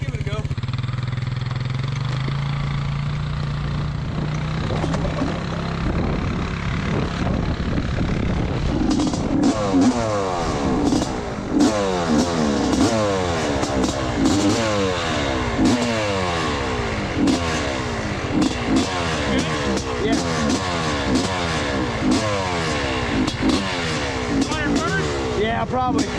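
A worn-out Honda CR500 two-stroke dirt bike is kicked over and catches partway through, then its engine barks and revs in repeated rising and falling bursts close by, with people talking over it.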